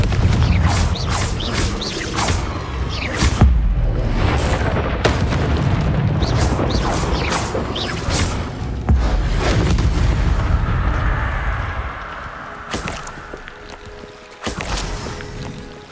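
A Confringo blasting curse in Hogwarts Legacy sets off a string of booming explosions over a sustained rumbling roar. Sharp blasts recur across the whole stretch, loud and near, then fade toward the end.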